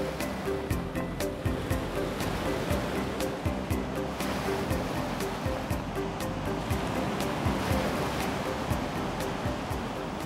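Surf rolling onto Florida beaches north of Miami toward Boca Raton, a steady dense wash of breaking waves heard from close by, with no voices.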